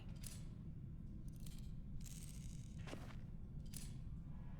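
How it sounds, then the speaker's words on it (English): Metallic clicks and scrapes of someone handling a revolver in The Walking Dead video game, four or five short sharp ticks spaced irregularly over a steady low hum, with no talking. "Why does it sound like they're fiddling with a revolver?"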